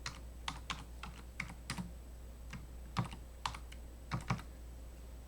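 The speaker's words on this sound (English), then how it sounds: "So I'm going to type in" Keys tapped on a computer keyboard while entering a tool search in Mastercam CNC software, a quiet irregular run of about a dozen sharp clicks in small clusters over a steady low hum, with no one talking.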